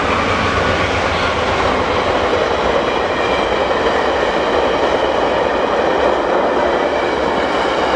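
A train rolls past close by, its steady loud rumble and wheel noise filling the whole stretch without a break, and nobody talks.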